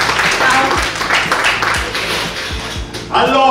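Audience applause for a contestant at a Miss & Mister Model Italia pageant selection in Calcinato, Brescia, a dense steady clatter of clapping with a swell near the end, mixed with crowd voices.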